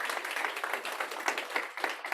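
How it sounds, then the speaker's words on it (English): Audience applause at a college staff reception, a steady, brisk patter of many hands clapping at a moderate level, with individual claps audible in the mix and no talk. "Another round of applause."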